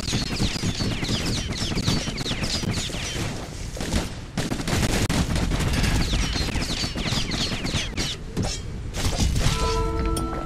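Dense, loud gunfire from the video game Bastion: rapid, continuous bursts of shots with shattering impacts, running almost nonstop over a busy mix of game effects.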